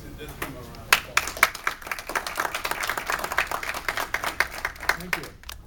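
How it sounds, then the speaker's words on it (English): Attendees at a local monthly meeting clap for a member, a modest round of distinct, uneven handclaps at close range that thins out after a few seconds. "Let's give him a round of applause."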